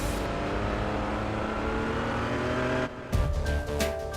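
A Koenigsegg sports car's engine drones at steady high speed, then a brief dip and a sharper, louder burst of engine and road noise follows, heard alone without talk.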